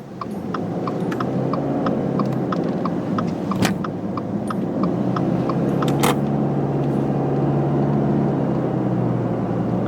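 Steady low engine hum from a 2022 Subaru Impreza Premium hatchback with a 2-liter engine and CVT, driving around town, with road and cabin noise throughout and a few faint light ticks.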